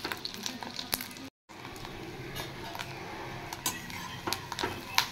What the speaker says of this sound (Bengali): এবার আমি বড়াগুলো ভেজে নিচ্ছি। এই মাছের ডিমগুলো তেলে ছাড়ার সময় প্রচুর তেল ছিটে।